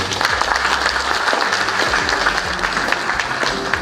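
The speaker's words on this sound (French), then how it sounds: "sous vos applaudissements, s'il vous plaît" A conference audience in Libreville claps steadily for a housing-network speaker, a loud, even burst of applause lasting the whole few seconds with no voices above it.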